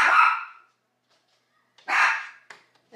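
A small pet dog in a cage, barking to be let out, gives two loud, close barks about two seconds apart, with a shorter yelp right after the second.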